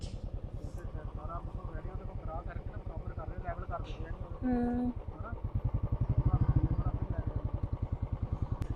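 A tractor works steadily while levelling ground at a Dussehra fairground in Hoshiarpur, its engine chugging in a fast, even rhythm close by, with a brief tonal squeal midway and people talking over it.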